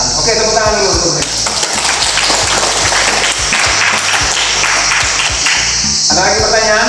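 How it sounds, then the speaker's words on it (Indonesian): A classroom of students breaks into loud, dense applause that fills the room and holds steady for several seconds. "tepuk tangan dulu untuk mereka"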